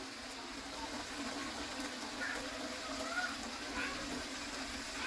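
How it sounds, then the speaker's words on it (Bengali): Ginger and garlic fry in oil for a chicken bhuna, giving a faint, steady hiss with a few light crackles heard close by, with no voices. "এই 2 চামচ আদা ও রসুন একটু একটু ভেজে নেব"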